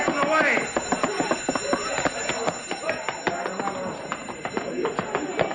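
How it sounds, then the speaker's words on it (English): An alarm bell rings continuously with rapid metallic strikes in a 1950s radio detective drama, loud and busy, while voices shout over it. "he stepped on the alarm"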